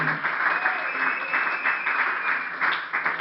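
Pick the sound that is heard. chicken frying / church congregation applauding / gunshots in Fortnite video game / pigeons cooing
church congregation applauding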